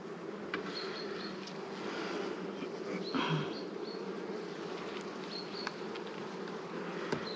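Honeybees buzzing around an opened beehive, a dense steady hum close by with individual bees whining past now and then, fairly quiet and without talk.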